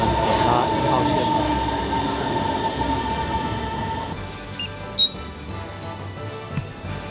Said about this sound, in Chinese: 好，那我们现在就在地铁上休息一下咯。 在东方之门搭1号线。